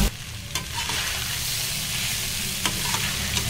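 A tempering of curry leaves, chili and turmeric powder crackles and sizzles in hot oil, with soft stirring scrapes and a couple of sharper spoon taps in a home kitchen.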